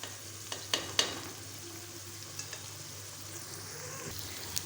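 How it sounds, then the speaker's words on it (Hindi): Chicken frying in a pan with ground onions, a quiet continuous sizzle with a few light clinks of stirring early on. "तो चिकन को हमने कुक करना है प्याज़ों के अंदर थोड़ा सा।"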